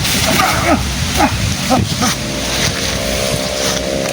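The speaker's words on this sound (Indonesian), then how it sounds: "Tiba-tiba datang angin badai membuka kegelapan di tengah hutan ini." Storm wind effect in an Indonesian audio drama, set in a dark forest: a loud, steady, rushing roar runs through the whole clip, with brief swooping, voice-like sounds near the start.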